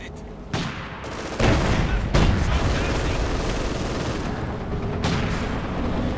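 A Katyusha rocket artillery barrage in the Company of Heroes 2 strategy game, a dense rumbling roll of explosions with sharp impacts that rise and sustain over several seconds, under faint game noise.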